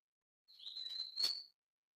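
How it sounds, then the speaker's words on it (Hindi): A single small bird gives a brief, high chirping call, clear and fairly close, in an otherwise quiet morning forest near Pauri. "इन जंगलों में चिड़ियों की मधुर ध्वनि आपको सुनाई देती होगी"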